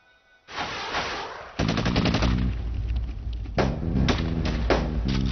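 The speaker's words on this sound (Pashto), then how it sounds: "هغوی به د ډز غږ واوري" Bursts of gunfire in a Pashto TV drama, with rapid machine-gun volleys rattling loud and close in overlapping rounds over several seconds.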